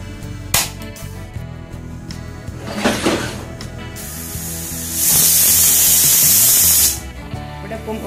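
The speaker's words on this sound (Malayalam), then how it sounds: "ഇവിടെ ഇപ്പം ഒരു വിസിൽ വന്നിട്ടുണ്ട്" A pressure cooker holding meat and tuber builds to one loud, steady steam whistle lasting about two seconds after some clattering kitchen sounds, then cuts off sharply.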